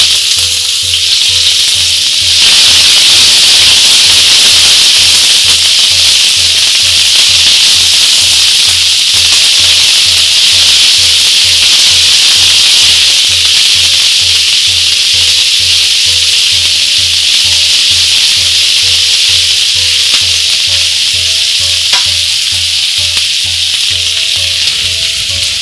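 Finely chopped large onion and red chili sizzle loudly in hot oil for a Nepali chicken fry, a continuous close frying hiss with occasional stirring scrapes and no talking.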